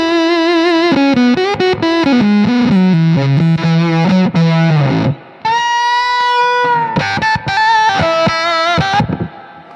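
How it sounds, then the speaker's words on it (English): Electric guitar played through a fuzz pedal modeled on an old 1970s Foxx fuzz with an octave effect, giving a loud, thick distorted tone; a run of descending notes gives way to brighter octave-up sustained notes and choppy strums, with no talk. "I think it's modeled after a really old fuzz pedal called the Fox Fuzz, Foxx"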